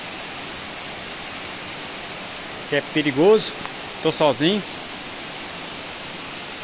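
An underground stream in the Varzelândia region of Minas Gerais flows with a steady, even broadband rush throughout, while someone speaks briefly over it midway.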